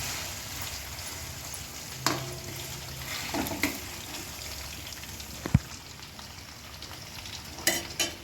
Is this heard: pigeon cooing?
no